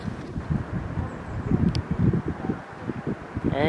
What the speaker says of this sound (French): Il fait un petit peu froid et il y a un peu de vent.